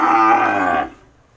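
A cow on a Vietnamese cattle farm gives one loud, close, drawn-out moo lasting under a second, then fades to quiet, with no talk.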